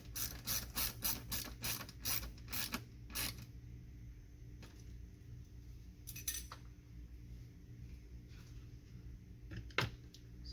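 Pipe clamps being tightened give quick bursts of ratcheting clicks for the first few seconds, then a few isolated clicks and rattles over a low, steady background hum.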